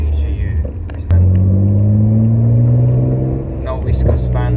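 A modified BMW E30 fitted with a 2.8 E46 engine runs with a deep, steady rumble that rises in pitch as it revs, close and loud, while someone talks over it.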